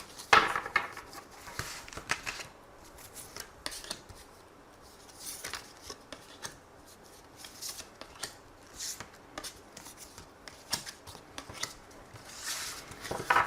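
Tarot cards are shuffled and drawn nearby in a string of soft, irregular riffling and slapping bursts, quiet and close, with no talking over them.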